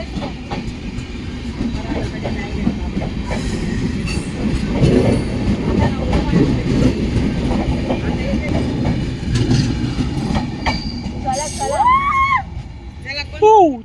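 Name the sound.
Konkan Kanya Express train running, sleeper coaches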